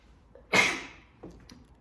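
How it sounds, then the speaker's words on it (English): A single sharp sneeze burst close to the mic, followed by a softer breathy trailing sound in an otherwise quiet room. "I'm gonna sneeze"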